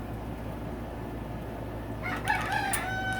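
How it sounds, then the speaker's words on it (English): Roosters crow in the background of a workshop during a CRF450R motorcycle engine rebuild, several calls bursting in over a steady low hum in the last second, fairly distant. "the roosters are going crazy"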